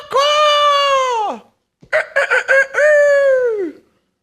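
A rooster crows twice, loud and close: a long sustained call, a pause, then a choppy stuttering crow that flows into another long drawn-out note, with no talk.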